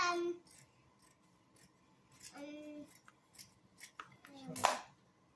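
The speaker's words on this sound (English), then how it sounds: "First I'm gonna cut it like this." Scissors snip through filter material to shape a circle for a DIY sand and bone-char bucket water filter, giving a few close, crisp cuts with a little speech nearby.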